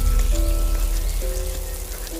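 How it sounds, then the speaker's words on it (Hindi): Rain falls steadily on a surface, a soft continuous patter with a faint tonal hum running underneath. "बारिश अब भी हो रही थी।"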